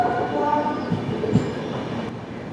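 The Trivandrum–Veraval Express pulling into Sabarmati station in Ahmedabad, a close, steady rumble of rolling carriages with faint wheel squeals over the clatter.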